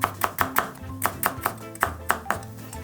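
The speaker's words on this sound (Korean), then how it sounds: "채 썰어 주시면 돼요." Pickled radish (danmuji) julienned with a knife on a cutting board: a quick, even run of about fifteen sharp, close chopping taps, loud and clear with no talk.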